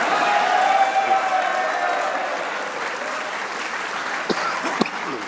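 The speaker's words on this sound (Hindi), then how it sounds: "एक बार इस परफॉर्मेंस पे शाहीन के लिए तालियां होनी चाहिए।" Applause rings out for a cricket performance, a full crowd clapping steadily and loudly at first, then thinning slightly, with a couple of sharp knocks near the end and faint voices beneath.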